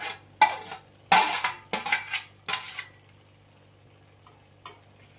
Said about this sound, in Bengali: এবার সবজিগুলো দিয়ে আমি মশলার সাথে ভালো করে 4-5 মিনিটের মতো কষিয়ে নেব।